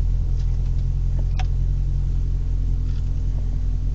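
A Jaguar XK8 (X100) reverses slowly through a tight garden space, its engine a steady low rumble close by, with one brief faint click partway through.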